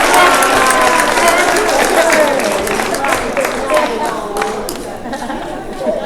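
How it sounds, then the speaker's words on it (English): Applause from family and guests at a board of education workshop event, a steady dense wash of clapping lasting several seconds with crowd chatter mixed in, easing slightly toward the end. "Give a round of applause"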